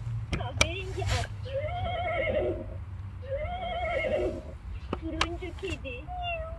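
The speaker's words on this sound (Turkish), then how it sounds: "Kahverengi at." A Chicco Turkish-speaking talking farm toy voices a brown horse, neighing in two long wavering whinnies at moderate loudness, with brief clicks and thumps around them over a steady low hum.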